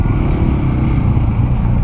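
A BMW GS motorcycle making slow U-turns gives a steady, low engine rumble close by, continuous and fairly loud with no talk over it.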